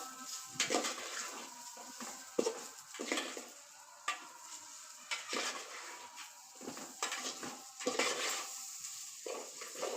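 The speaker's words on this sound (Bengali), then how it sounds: "এখন আমি সবগুলো আস্তে আস্তে নাড়াচড়া করে দিয়ে ভাজতে থাকবো" Spices with cracked cardamom pods being stirred and fried in oil in a pot for pulao, with intermittent scraping and clinking of a spoon against the pot over a faint sizzle, quiet and irregular.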